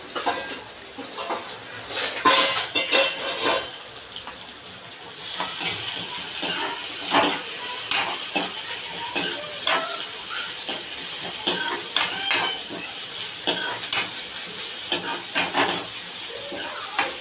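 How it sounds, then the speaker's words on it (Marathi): Chopped onion sizzles and fries in hot oil with popped mustard seeds for shev bhaji, with a spoon scraping and stirring the pan in steady, close bursts over a continuous hiss. "कांदा टाकते. तर कांदा चांगला आपल्याला फ्राय होऊन द्यायचा आहे."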